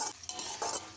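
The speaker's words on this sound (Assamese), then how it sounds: "কাঠআলুখিনি দি আকৌ এবাৰ মই হেতাখনেৰে ভালকৈ লৰাই দিছোঁ।" A spatula stirs chopped yam and tomato in a frying pan, a short burst of scraping strokes over a soft sizzle, close and fairly quiet.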